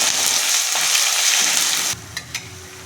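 Ginger garlic paste and green chilies sizzling in hot oil, a loud, hissing fry for about two seconds that drops off abruptly, leaving a few faint stirring clicks.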